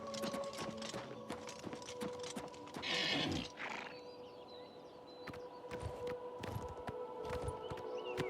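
Rhythmic horse hooves clip-clop over a busy soundscape in the video game Oblivion Remastered, with a brief whinny-like burst partway through and scattered clicks.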